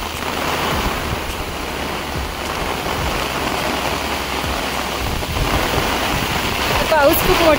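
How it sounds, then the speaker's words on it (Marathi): Heavy monsoon rain falls on the hillside path up to a Durga temple in Guhagar, a dense, unbroken hiss that swells slightly toward the end. "पाऊस खूप मोठा आलेला आहे।"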